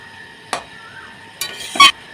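Fried shrimp being stirred into watermelon rind in a frying pan: three short scraping, sizzling strokes, the last the loudest, over a quiet background.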